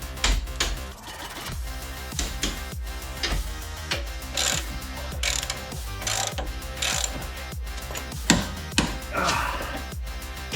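Suspension bolts being tightened on an old Porsche Boxster, rapid ratchet clicks in repeated bursts with clanks of metal tools, close and fairly clear, with no speech.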